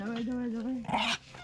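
An elderly dog vocalizes close by in a rural yard, a drawn-out whining bark with a steady tone that rises into a sharper cry near the end before fading.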